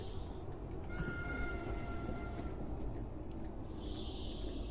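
Train rumbling along the track in the Roblox British Railway game, a steady broadband roar with faint squealing wheel tones, moderately quiet and continuous.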